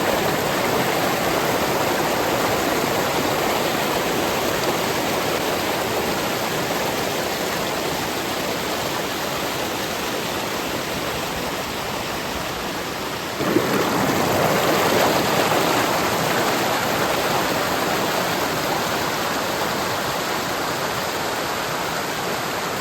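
Devkund waterfall pours as a loud, continuous broadband rush of falling water, steady throughout with a slight shift in intensity midway, and no voices.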